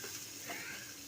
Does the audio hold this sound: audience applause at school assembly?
no